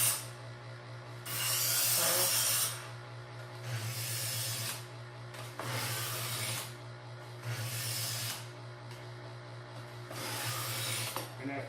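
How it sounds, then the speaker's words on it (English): Kitchen knife on an electric sharpener with oscillating diamond pads: six rasping, whirring passes of a couple of seconds each over a steady motor hum, close and fairly loud. "after just a few passes on the sharpener, now we're back to the blade that I know and love"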